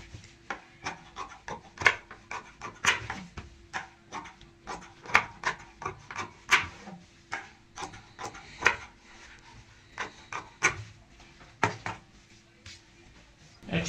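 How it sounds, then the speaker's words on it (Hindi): Scissors snip away the excess fabric of a cushion cover, with crisp, close cuts repeating in a steady rhythm about once a second, alone and without talk. "अब हम एक्स्ट्रा जो कपड़ा है ये काट देते हैं"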